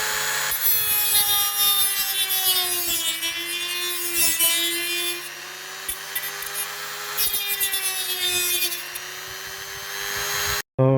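Hand saw cutting the wooden frame for a ceiling access panel, a steady back-and-forth rasp of strokes running almost continuously and close up, with a brief pause near the end.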